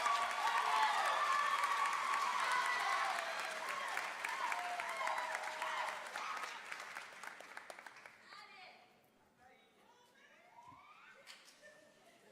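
Applause and some cheering from a convocation audience for atmospheric and geographic sciences graduates, strong at first and then thinning out and fading to near quiet after about eight seconds.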